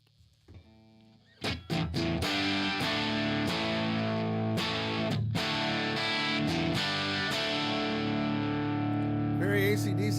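Distorted electric guitar churns out a loud, driving rock riff with sustained crunchy chords broken by short choppy stops, following a quiet lead-in, during a live casual strum-and-tell session.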